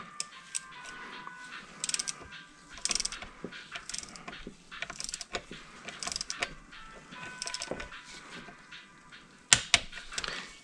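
Hand ratchet tightening the transmission pan bolts on a 2009 Jeep Grand Cherokee 4.7, giving steady mechanical clicking strokes in close, repeated bursts, with a louder clank near the end.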